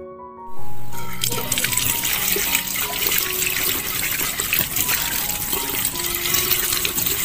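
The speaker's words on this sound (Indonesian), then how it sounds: "Ketika dirasa sudah setengah mengering, waktunya untuk dibilas dengan air yang bersih." Water gushes steadily from a tap to rinse a face scrub off with clean water, a loud continuous splash that starts abruptly and runs on with no talk over it.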